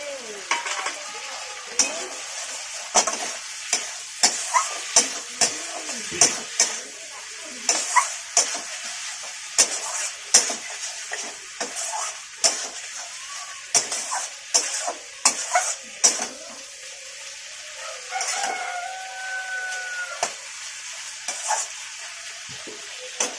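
Eggplant and potato curry sizzles softly in a pan under a continuous frying hiss, while a spoon scrapes and clinks against the metal in frequent irregular strokes.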